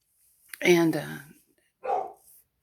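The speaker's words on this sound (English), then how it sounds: "And I'm sorry about Sandy Girl barking." A dog gives a single sharp bark, then a shorter second bark after a pause, close and fairly loud in an otherwise quiet room.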